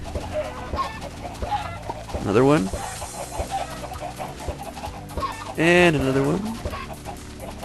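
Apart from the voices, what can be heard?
chickens clucking in Minecraft video game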